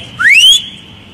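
At an Occupy Richmond general assembly in Richmond, Virginia, in 2011, a whistle gives one short, loud, rising blast up close, alone and without talk.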